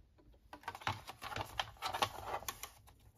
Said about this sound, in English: I think that's going to be just a hair too wide for my pocket, so I'm going to trim that down